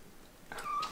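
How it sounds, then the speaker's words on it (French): A kitten gives a short, rising meow in the second half, close and fairly clear, after a quiet start. "Un petit chat. Deux petits chats."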